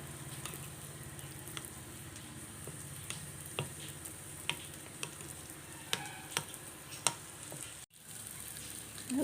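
Spoon stirring through a frying mixture as chili powder is mixed in for a ladies' finger buttermilk masala, a steady low sizzle underneath with scattered scrapes and taps of the utensil, alone without talk.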